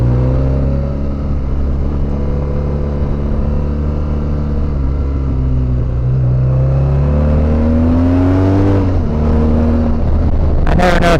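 A BMW R1200GS Adventure motorcycle rides along a dirt road: a loud, continuous engine drone with wind noise that shifts in pitch and climbs as the rider accelerates near the end.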